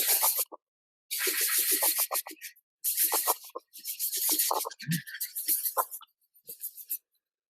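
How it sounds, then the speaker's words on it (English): A wood-turned piece is sanded with a foam pad in quick bursts of harsh, scratchy rubbing, separated by short silences, close to the ear and without speech. "One is to just take sanding materials and sand each piece just the way I turned it."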